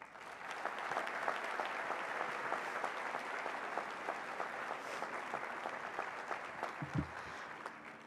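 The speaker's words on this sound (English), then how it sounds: "Please join me in a round of applause to celebrate our amazing scholar athletes" A large audience at the Claremont McKenna College 78th commencement ceremony claps in sustained, dense applause that holds at an even level for several seconds.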